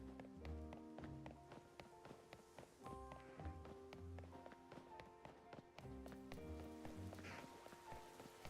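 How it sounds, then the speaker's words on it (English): Steady rain falls in the video game Pokémon Legends: Z-A, a continuous patter running under layered game music with soft repeated tapping, moderately loud throughout. "It's raining"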